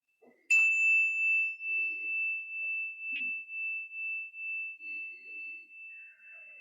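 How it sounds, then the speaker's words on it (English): A single meditation bell struck once, ringing out clear and pure, then a long steady hum that slowly fades while faint rustles sound in the quiet room. "We will begin and end the meditation with a bell."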